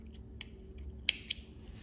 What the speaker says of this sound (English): And then now you can cut this end off.